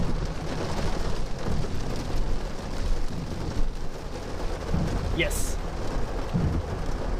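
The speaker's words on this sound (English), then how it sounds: "we're just getting some heavy rain" Heavy rain pours steadily during a severe storm, a dense continuous roar with brief faint sounds through it; a voice says a single word.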